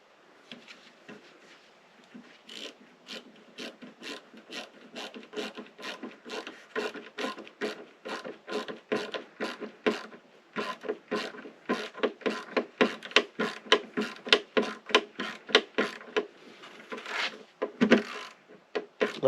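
A Leatherman Surge multi-tool screwdriver with its ratchet locked drives a screw, giving a long run of rhythmic grinding, rasping strokes that start faint and grow louder and closer, with a brief pause near the end.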